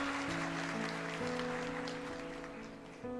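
A church congregation claps steadily through a short stretch, the applause blending with sustained music playing underneath.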